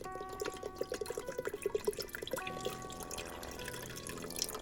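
Chicken broth pours and splashes into an Instant Pot used as a slow cooker, a soft liquid trickle with gurgling drips, faint and close, with no voices.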